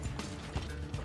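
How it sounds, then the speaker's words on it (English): Horse hooves clatter in the video game Assassin's Creed II, a quick run of rhythmic thuds over a busy, noisy game soundscape in a very short snippet. "Now the horse goes over."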